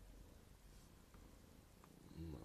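Domestic cat purring very softly, a faint steady low rumble heard close and alone throughout, with a slight swell near the end.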